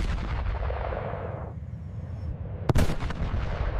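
Schwerer Gustav World War II railway cannon, its barrel restored, fires a round: a dense, sustained roar with a sharp blast burst near the end, loud and close, no voices.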